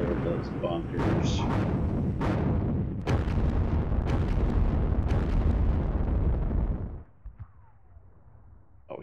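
Game artillery from 105 mm guns pounds bunkers in the wargame Sealion '40, a dense run of loud explosive booms and cracks over about seven seconds before the barrage drops away to a quieter, rumbling tail.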